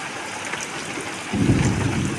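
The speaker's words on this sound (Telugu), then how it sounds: "చూడండి, పిడుగులు పడుతూ ఉన్నాయి." Rain falling steadily during a thunderstorm, a constant hiss that swells partway through as a heavier, louder rumbling wash sets in, with no voices.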